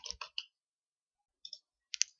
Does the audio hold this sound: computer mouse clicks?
yes